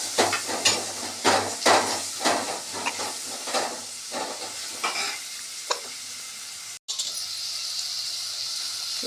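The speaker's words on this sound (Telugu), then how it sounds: "ఇక కొంచెం ఆనియన్స్ వేగా పెడితే" Onions fry in a pan with curry leaves and ginger garlic paste, hissing loudly while a spoon scrapes and stirs in quick bursts, then a brief cut before a steadier, calmer sizzle continues.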